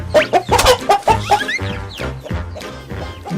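A Bangkok rooster clucks in short repeated bursts, loud and close, with a rapid run of sharp calls that gives way to softer, steadier clucking.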